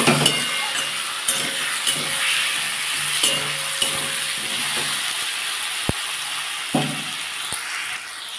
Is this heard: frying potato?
yes